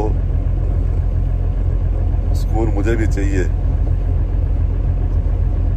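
A car engine runs steadily nearby with a low, even rumble, and a brief spoken phrase lands over it partway through.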